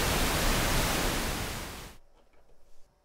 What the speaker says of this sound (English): And that's pink noise.